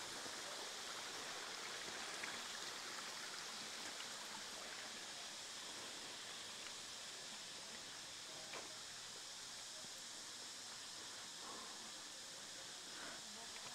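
A stream flowing beside an eco-tourism cafe at AKO EA in Buon Ma Thuot, Dak Lak, gives a steady, faint, even rush of water throughout, with a voice murmuring faintly at times.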